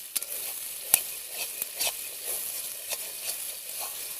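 Chicken meat slowly frying in a pan, a quiet steady sizzle with occasional soft stirring clicks and scrapes, close by and without speech.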